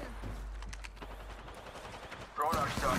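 Gunfire from a shooter video game played with a G Scout rifle, heard as a rapid burst of faint shots under a low hum, followed by a louder noisy rush near the end.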